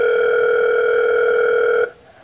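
A steady two-tone telephone signal, like a dial or ringback tone on a live call-in show's phone line, holds loud and unbroken for almost two seconds, then cuts off abruptly into faint background.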